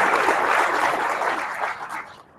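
Applause from an event audience greeting a county supervisor, a steady wash of many hands clapping that fades away over a couple of seconds.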